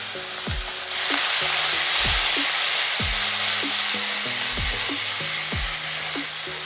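Onion paste fries in hot oil for a Bengali doi fish curry, a loud continuous sizzle under repeated descending tonal swoops and hums from nearby equipment.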